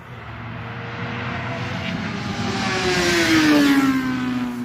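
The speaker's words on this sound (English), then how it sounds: "Zoom! Nice little motorcycle." A small motorcycle on a country road growing louder as it nears and passes, the engine note rising and then bending down in pitch, with no talking.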